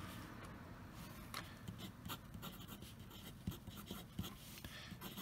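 Medium-nib TWSBI Go fountain pen writing on paper, a faint continuous scratchy rasp with a few soft taps and bumps, close and quiet with no talking.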